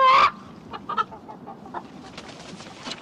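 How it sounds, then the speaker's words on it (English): Champion white buff chickens cluck close by on a farm, one loud squawk followed by a scatter of soft, short clucks and murmurs in a quiet yard. "These are actually, champion white buff chickens."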